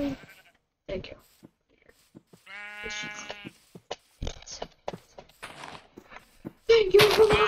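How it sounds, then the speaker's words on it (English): A Minecraft sheep bleats once, a clear wavering call in the middle of the clip, while a person talks and makes other sounds before and after it. "Sheep."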